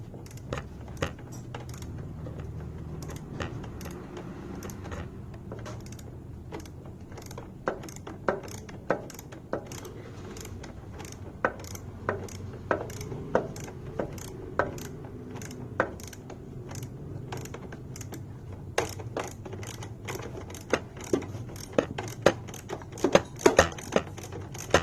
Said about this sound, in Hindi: 12 mm का बॉक्स लेकर के ये हेक्सागन को टाइट करेंगे